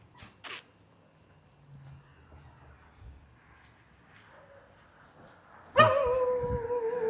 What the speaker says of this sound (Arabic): الكلاب هنا بتخاف، مش زي في مصر.